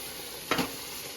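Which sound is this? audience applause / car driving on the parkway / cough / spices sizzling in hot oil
spices sizzling in hot oil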